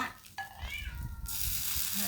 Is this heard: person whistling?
no